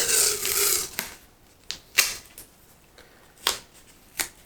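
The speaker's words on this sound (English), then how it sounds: "So all I do is I take some tape," Tape torn from a roll and pressed down over magnets on the outside of a plastic RC car body: a long ripping pull at the start, then four sharp, separate taps and rips, close and crisp with no talking.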